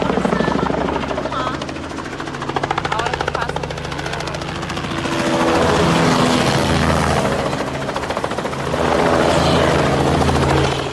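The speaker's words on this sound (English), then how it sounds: "brought in by none other than a CH-47 Chinook helicopter" A large twin-rotor CH-47 Chinook helicopter thunders nearby with a loud, rapid chopping throb that swells and fades slightly over several seconds.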